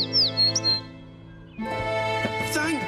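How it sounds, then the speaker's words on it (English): A cartoon mother bird chirps with high, bright tweets and short calls, first over a quiet background, then amid busier music and chatter-like sounds from about halfway through. "Thank goodness, the real mother bird is here."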